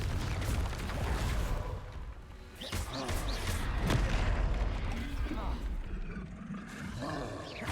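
Repeated spell blasts of Confringo and Bombarda from Hogwarts Legacy, booming impacts in a dense, continuous battle mix with speech-like voices running underneath.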